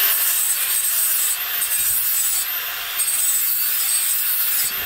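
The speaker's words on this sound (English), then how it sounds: "Ah, the sweet sound of grinding." A Milwaukee Fuel cordless tool grinds outdoors in a garden with a loud, steady high-pitched whine, continuous throughout with slight shifts in pitch.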